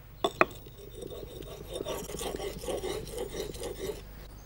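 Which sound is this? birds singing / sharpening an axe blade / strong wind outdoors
sharpening an axe blade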